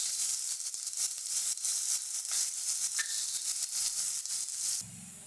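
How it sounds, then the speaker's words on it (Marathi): Onion sautéing with salt in a pan for jhunka, a steady bright sizzle and crackle running throughout with small scraping touches, cutting off abruptly near the end. "थोडंसं कांदा पटकन परतावा म्हणून थोडं मीठ भरून वरतून."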